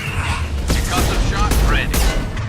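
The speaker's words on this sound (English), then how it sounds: "Firing anti-ship batteries at collector vessel" Anti-ship batteries in Mass Effect 2 firing at the Collector vessel, a loud continuous barrage of booming shots and rumbling blasts with mechanical whirs, a voice speaking over it.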